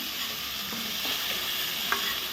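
Drumstick pods and potato sizzle steadily in a hot pan, with soft scraping from occasional stirring.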